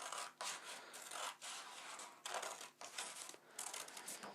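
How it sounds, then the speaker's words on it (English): Scissors snip through purple paper in a rapid series of short, crisp cuts, close and fairly quiet, with brief pauses between bursts as a zigzag is cut. "So I might cut a zigzag out of this."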